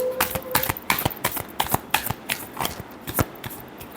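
A deck of tarot cards shuffled by hand in a short run of crisp riffling flicks and slaps, close and clear with no talking.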